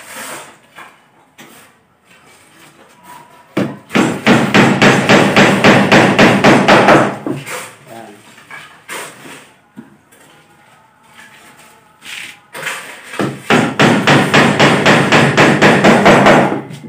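Hammering nails into a laminated closet: rapid, loud runs of close hammer blows in two long bursts, separated by quieter stretches with a few scattered taps.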